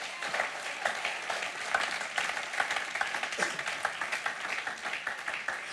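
A congregation at a French-speaking church service applauds Jesus, a sustained, even round of many hands clapping that stays moderately loud throughout.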